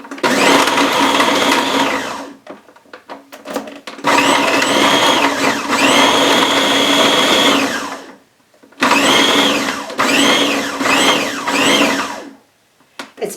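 Blender pulsing diced beef roast into ground beef, loud whirring bursts of a few seconds each separated by short pauses with rattling pieces, close and with no talk.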